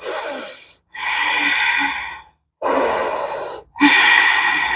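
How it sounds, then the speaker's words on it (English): Deep yoga breaths during a power yoga flow, two long, loud, close-miked inhales and exhales in a slow rhythm, separated by brief pauses. "we're breathing in and out"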